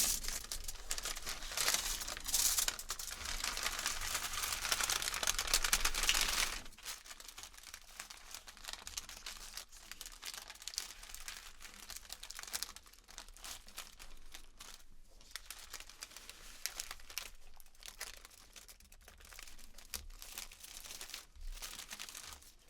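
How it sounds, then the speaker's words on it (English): A paper bag crinkles as a piece of dark chocolate is placed inside at a luxury chocolate shop. Loud crisp rustling runs for several seconds up close, then gives way to softer, sporadic crackles and taps. "Just going to place it in your lovely paper bag."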